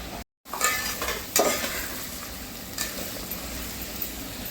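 Sliced onion frying in oil until reddish for a spicy chicken curry, a loud steady sizzle with occasional scraping stirs in the pan, no voices.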